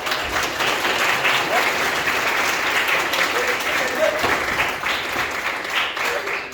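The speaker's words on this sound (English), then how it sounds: "Give him a big round of applause." Audience applause at a graduation, with many people clapping in a continuous, fairly loud wash that stays steady throughout, and a few faint voices calling out beneath it.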